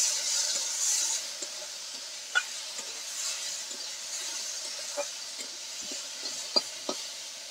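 Chopped onion fries steadily in hot oil with dried red chillies, bay leaf, cumin and black cumin, giving a constant soft sizzle broken by occasional scrapes and taps of a spoon stirring the pan.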